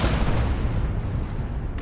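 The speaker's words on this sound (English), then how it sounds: "Plasma Cannon gets a shot, and it's a pretty good one." Plasma cannon fire in the battle game Dawn of War 2 erupts as a dense, loud blast of booming, crackling impacts, sustained for about two seconds amid the noise of the fight.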